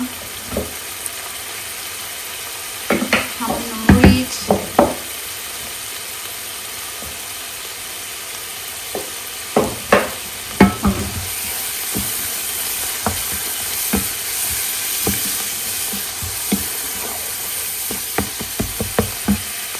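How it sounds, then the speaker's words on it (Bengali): Cumin and coriander spices sizzle in hot oil in a pan, with a steady frying hiss throughout and scattered scraping clatters from stirring, loudest early and around the middle, with no talk. "এক এক করে মশলা সব দিয়ে দিই জিরা ধনা"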